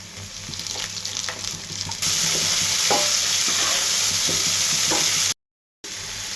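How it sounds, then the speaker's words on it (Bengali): Onions and fish sizzle in hot oil in a pan, a loud continuous frying hiss with occasional stirring scrapes, close up and without talk, briefly cut by a short silence near the end. "পেঁয়াজগুলোকে অল্প একটু বাইজা নিচ্ছি"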